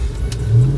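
A car engine accelerating hard under heavy torque on a roadside during an overland trip, a short loud low-pitched surge that swells toward the end.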